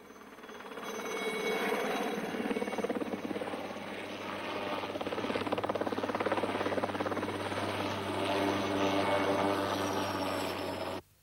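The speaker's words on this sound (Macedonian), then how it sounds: "Хеликоптер." A helicopter drones steadily with a continuous rotor throb and whine, fairly distant and even in loudness, before cutting off abruptly at the end.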